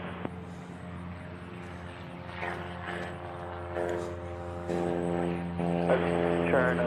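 A Southwest Airlines jet arriving at Nashville International Airport, a droning engine whine with steady tonal hum that swells gradually louder as it approaches, under occasional voices.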